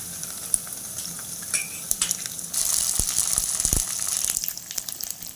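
Garlic paste sizzling in oil in a pan on a low flame, a continuous frying crackle with stirring scrapes and a louder surge of sizzle partway through, close and without talk.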